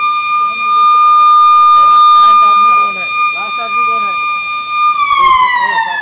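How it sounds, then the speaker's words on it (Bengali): A steady, loud warning siren sounds before blasting in a railway tunnel under construction, holding one tone that shifts near the end, with faint voices underneath. "প্রথমে 3 বার সাইরেন বাজানো হয় এইভাবে"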